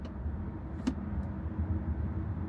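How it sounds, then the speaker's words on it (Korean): Inside a BYD Sealion 7 electric car accelerating in sport mode, a steady cabin hum of motor and road noise holds for a couple of seconds, with a brief brighter whoosh partway through and no voices. "스포츠 모드에선 일반적인 주행 모드보다 조금 더 맹렬하게 가속된다는 게 느껴지긴 하는데요"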